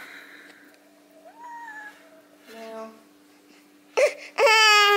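A cat trapped under a couch gives several plaintive meows, faint at first and then louder and drawn out near the end, heard close by in a quiet indoor room.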